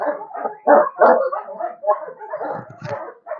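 Belgian Malinois puppy, about seven weeks to three months old, yipping, barking and whimpering in quick irregular bursts close by during obedience training.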